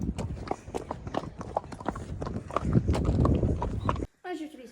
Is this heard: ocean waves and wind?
no